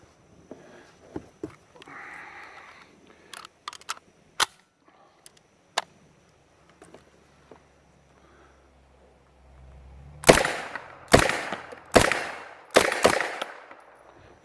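Semi-automatic Uzi firing reloaded ammunition outdoors: a few scattered single shots early, then a loud close run of five sharp reports at a steady, quick pace near the end.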